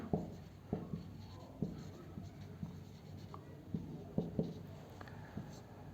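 A pen scratches across paper in short, quiet strokes. The soft taps and scrapes come irregularly and close by, like someone jotting down accounting entries.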